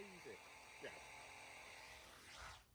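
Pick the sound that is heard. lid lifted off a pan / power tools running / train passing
power tools running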